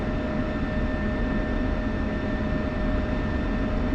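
A jet taxis along an uneven taxiway in a flight simulator, shown as a constant loud engine roar with steady whining tones that hold unchanged throughout, with no voices.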